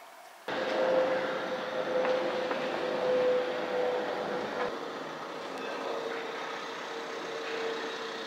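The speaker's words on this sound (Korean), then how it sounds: "지하철 타려고 내려왔어요" A subway train rumbles steadily in an underground station on a snowy day, starting abruptly and holding a loud, sustained roar with a faint tonal whine running through it, no voices.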